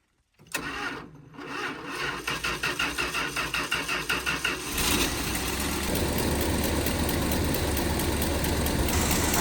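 A Winnebago Brave motorhome engine, fresh from an oil change, cranks with a rapid rhythmic chugging of the starter, catches, then settles into a steady, close, rumbling idle.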